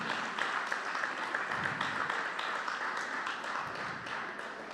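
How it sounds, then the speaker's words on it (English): Audience at an advertising association annual general meeting in Nigeria applauding, a dense continuous patter of clapping from a large indoor crowd, moderately loud and fading slightly toward the end. "a round of applause for him"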